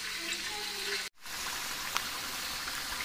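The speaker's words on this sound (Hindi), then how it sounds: "ये देखिए माशाल्लाह फ्राई हो गया" Mutton chops frying in a pan of oil, a steady close sizzle and crackle with a brief cut in the middle and a single sharper pop near the end.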